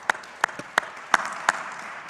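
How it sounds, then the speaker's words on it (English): Sparse applause from a small audience at a USDA Ag Day agriculture panel: a handful of distinct, widely spaced claps over a quiet room, fairly close and brief. "Let's give him a round of applause for that response"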